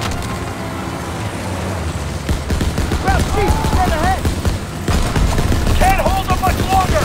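Rapid bursts of mounted machine gun fire in Call of Duty WW2 rattle through a vehicle chase, with booming impacts, a rumbling engine and shouted voices over the shooting.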